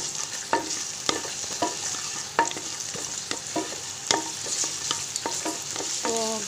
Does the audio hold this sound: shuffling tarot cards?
no